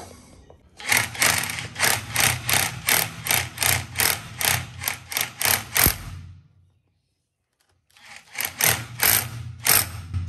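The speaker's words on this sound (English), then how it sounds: "So, just chisel the outline roughly." A chisel is struck over and over to cut an outline into wall render, making a loud, regular train of sharp knocks at about two per second. A pause of a couple of seconds follows, then another run of strikes.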